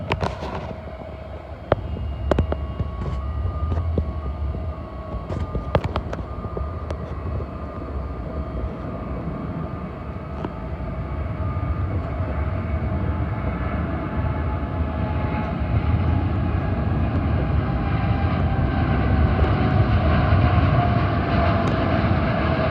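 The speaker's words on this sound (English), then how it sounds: "there's a Royal Jordanian Boeing 787-8 returning home to Amman." A Royal Jordanian Boeing 787-8 at Heathrow produces a broad, rising engine roar that builds steadily over about twenty seconds, distant at first and growing louder, with scattered sharp clicks and knocks early on.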